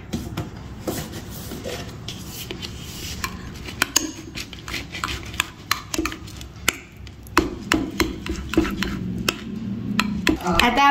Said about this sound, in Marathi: आता आपण हे सगळं मिक्स करू.